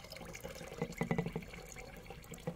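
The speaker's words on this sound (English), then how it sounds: "We're gonna put a little bit more of salty water" Saturated salt water is poured into a silver solution made from dissolved silver-plated industrial wire leftovers, giving a quiet, brief run of splashing and trickling pulses in the middle before it tapers off.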